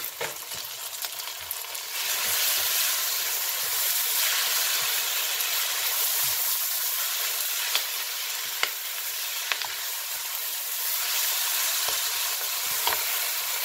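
Noodles stir-fry with basil and green onions over turned-up heat: a loud, steady sizzle and hiss runs throughout, with occasional sharp clicks of a utensil stirring against the pan, and no talking.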